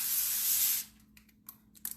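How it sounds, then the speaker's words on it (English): A steady spray of olive oil cooking spray hisses close up for under a second, then stops, followed by a few faint clicks and light handling noises. "I'm just going to spray olive oil."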